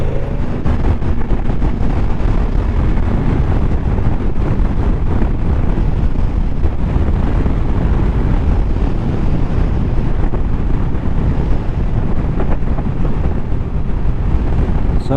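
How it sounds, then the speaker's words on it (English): A 2016 Honda VF touring motorbike fitted with panniers, ridden with steady wind buffeting the microphone in a loud, continuous roar that never lets up, with a low rumble underneath and no talking. "It's still a bit windy though."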